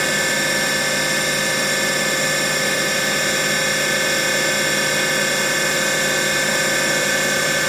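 A 2002 Haas TM-1 CNC toolroom mill with its spindle running at 2,500 RPM, giving a steady, continuous machine whine with a dense tonal hum that stays level and close throughout, with no voices.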